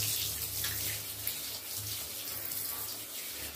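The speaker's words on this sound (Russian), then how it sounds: "Ну да, вода, вода теплая, хорошая, не замерзнешь" Warm water runs steadily from a tap into a tub while a dog is bathed, a continuous broadband splashing rush with no pauses, fairly close and even in level throughout.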